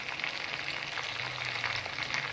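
Chicken pieces for fried rice fry in a pan with a steady, close crackling sizzle that keeps a dense, even hiss throughout, with no talking.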